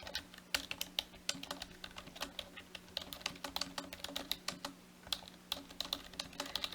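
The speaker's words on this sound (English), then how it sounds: "But if you keep typing," Rapid, irregular clicking of keys on a computer keyboard, close and fairly quiet, with no talking.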